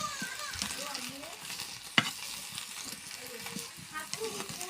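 Onion flowers and chopped onion frying together in a pan give a low, steady sizzle with stirring scrapes and one sharp clink, under a fairly quiet kitchen background.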